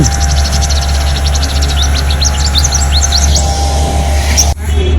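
A sparrow chirps rapidly in a quick series of bright tweets, fairly close, over a steady low hum, stopping near the end.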